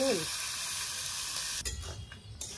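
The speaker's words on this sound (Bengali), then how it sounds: "নেড়ে চেড়ে এই যে শুকনো লঙ্কা পোড়া পোড়া হয়ে গেছে, এখনই লাউ ঢেলে দেবো" Bottle gourd frying with dried red chillies and cumin in a pan, a steady loud broadband sizzle with occasional stirring scrapes and clatter near the end.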